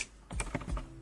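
Keys clatter on a computer keyboard in a short, close burst of several quick strokes, with no talking.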